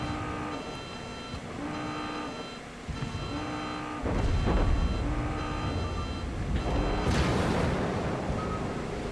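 Battleship guns firing in a naval video game, heavy booming salvos that land as a couple of deep blasts over repeating electronic beeps, loud and close, with no talking.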